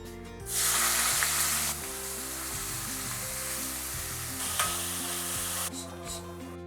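Oil going into a hot pan for matar kofta curry in green gravy, giving a loud burst of sizzling and frying with stirring scrapes throughout, with no talking.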